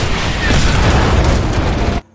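An RPG blast in a war film, a loud close roaring boom of dense noise that cuts off abruptly after about two seconds.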